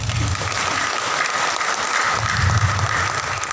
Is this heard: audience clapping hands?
yes